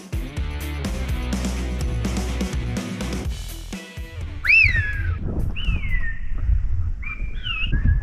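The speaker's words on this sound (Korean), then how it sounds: "어디선가 낯선 휘파람 소리가 들려옵니다." Silbo Gomero, the whistled language of La Gomera, heard as a few rising and falling whistled phrases in the second half, after a stretch of music at the start.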